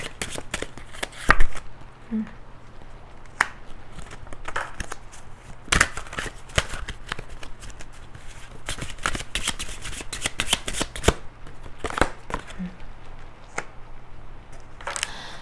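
Tarot cards are shuffled and drawn in a quiet room, with repeated close crisp riffles, slaps and flicks arriving in irregular bursts throughout.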